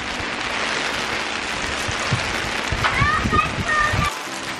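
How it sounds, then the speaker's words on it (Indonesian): Hail pelting down outdoors, a dense steady patter across the whole clip, loud and close, with a few brief squeaky sounds partway through. "Hujan es."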